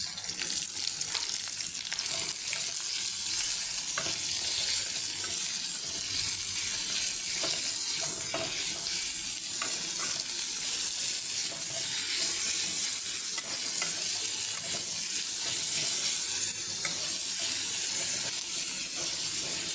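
Onions fried in oil with bay leaf and whole garam masala for a soybean curry, giving a continuous dense sizzle with sharp crackles and occasional stirring clicks close by, no talk.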